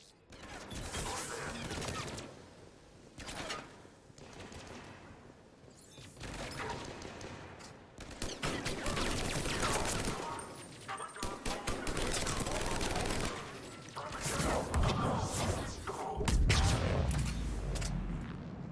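Video game gunfire, loud irregular bursts of rapid shots and crashes that come and go in clusters, with combat noise and brief voice lines mixed in.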